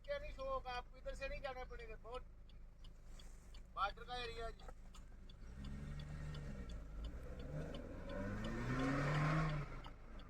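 A car drives along a road on a cold, dense-fog day in Punjab, its engine hum and road noise rising and swelling steadily in the second half after voices talk over the first few seconds.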